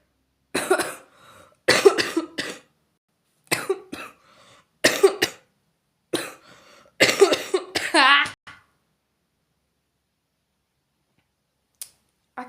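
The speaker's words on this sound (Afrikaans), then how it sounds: "Ek is jammer, die hoes wil nie gaan nie." A run of harsh, close coughing fits from a lingering cough in quick succession, several bursts over a few seconds, followed by near silence.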